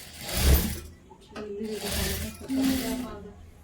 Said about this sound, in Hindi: इक्वल फैब्रिक लेते हुए इस तरह से स्टिचिंग लगा रही हूँ